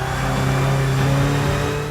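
A car engine holds high revs under hard acceleration on a flying lap, a steady loud harmonic drone that stays continuous and close, with no talk over it.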